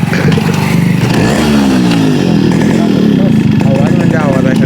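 Yamaha RX100 motorcycle engine running loud and close, a two-stroke drone rising and falling in pitch as it revs, with people talking over it.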